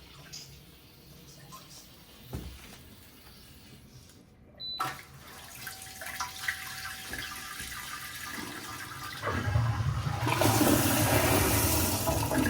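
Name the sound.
Woodbridge B0930S smart bidet toilet half flush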